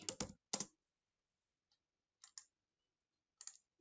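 Quiet, close keyboard typing: a quick burst of clicks, a pause, then a few scattered keystrokes in small clusters.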